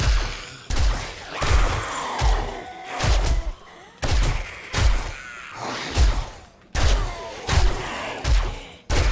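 Bursts of rapid gunfire from a drum-magazine gun during a zombie horde night in 7 Days To Die, coming in repeated loud volleys separated by brief pauses.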